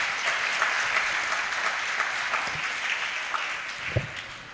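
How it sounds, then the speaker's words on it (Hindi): A seated audience at a literary discussion session breaks into sustained, dense applause, a broad even wash of many hands clapping at moderate distance, with a couple of louder individual claps near the end. "तो मैं चाहूँगा कि एक ज़ोरदार तालियों के साथ इस सत्र की शुरुआत करें"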